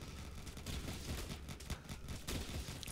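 Sniper towers in Roblox Tower Defense Simulator fire in rapid, crackling volleys, a quiet, continuous barrage of game gunfire with a few sharper bursts standing out.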